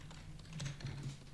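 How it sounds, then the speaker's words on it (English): Rapid typing on a computer keyboard, a quick steady patter of key clicks heard close over a low background hum. "He's typing fast."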